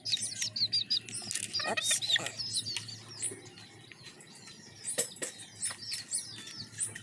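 Young chicks peeping in high, thin, rapid chirps that come in clusters, fairly close over a low background hum, with a brief spoken word in the middle.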